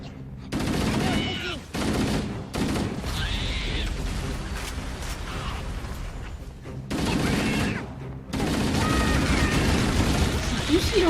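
Gunfire in the video game Halo: Combat Evolved, with repeated bursts of shots and blasts spread through the whole stretch alongside other game sounds, loud and busy with only brief gaps.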